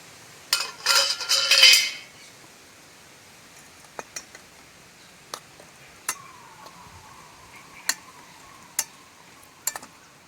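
Pieces of glycerin soap drop into a metal bowl in a quick clattering burst, followed by scattered single clinks and taps at intervals in a quiet room.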